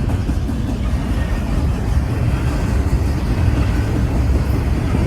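A westbound Union Pacific intermodal stack freight train rolling past in Benson, Arizona, a loud, steady rumble of wheels and cars with no breaks.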